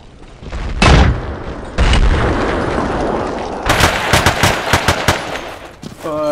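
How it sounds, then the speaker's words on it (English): M203 grenade launcher fire in Battlefield 2 comes as two heavy booms a second apart, then a rapid burst of machine-gun shots and a short beeping tone, loud and close. "I shoot an M203 grenade, and look what happens"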